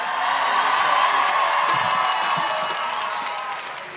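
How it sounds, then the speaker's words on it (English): Studio audience clapping and cheering as guests come out, a dense wash of applause with whoops and shouts, loud at first and slowly easing off toward the end. "You got to keep clapping, though."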